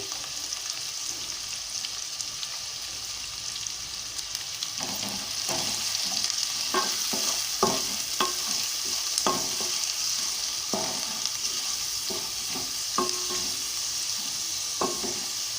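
Chopped onions and green chilli pieces fry in a pan with a steady hissing sizzle, while a spatula scrapes and taps the pan in irregular close strokes; no one talks.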